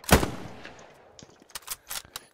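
Gunfire in the World War II shooter game Hell Let Loose: one loud, close rifle shot with a long decaying echo, followed by several fainter, distant shots in an irregular scatter.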